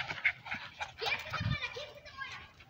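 Dogs scuffling and panting on a ranch, with quick breathy pants and short growly yelps while someone speaks over them.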